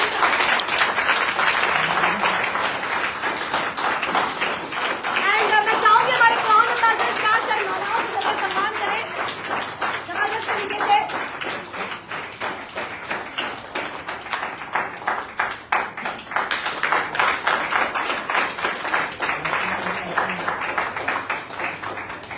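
Audience applause at a network marketing business event, a steady wash of clapping running throughout, with a voice speaking over it and cheering swells in places.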